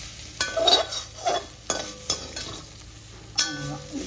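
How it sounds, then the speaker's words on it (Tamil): Slices of elephant foot yam frying in hot oil on high flame, a steady sizzle with occasional stirring and scraping clinks of a utensil in the pan, close and moderately loud. "இப்படி திருப்பி போட்டு வறுத்து மொறுன்னு எடுப்பேன்"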